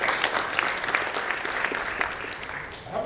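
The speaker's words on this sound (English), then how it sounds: "Let's clap for them." Audience applause at a university prize-giving ceremony, a steady patter of clapping at moderate volume throughout.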